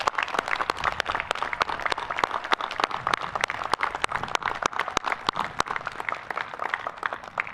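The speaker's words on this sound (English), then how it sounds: "Please join me in a round of applause." Crisp individual hand claps from a commencement audience at the Coast Guard Academy come fairly evenly, each one distinct and close, with no one speaking over them.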